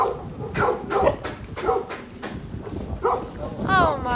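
Stray dogs in Dahab, Egypt, giving short whimpers, yips and soft barks up close while people talk and fuss over them, ending in a rising whine.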